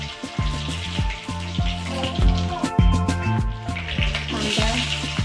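Mustard seeds spluttering in hot oil while tempering for edali sambar, giving sharp crackling pops in an irregular, busy rhythm, close and fairly loud, with a steady sizzle beneath.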